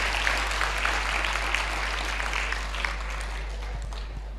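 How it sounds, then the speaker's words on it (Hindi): Sustained audience applause and clapping for a young girl at a spiritual talk, dense and steady throughout with a low hum underneath. "बहुत सारी तालियां दो इस बच्ची को"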